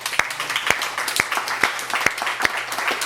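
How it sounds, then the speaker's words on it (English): A few people at a memoir reading event clap sparsely, with about six distinct, evenly spaced claps over a low steady hum in a small room. "another round of applause for all of our readers"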